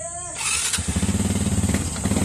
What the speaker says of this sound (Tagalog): So nakoy gipamati nga balatian ni ang motor mga kol.